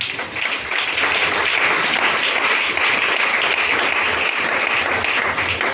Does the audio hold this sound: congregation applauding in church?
yes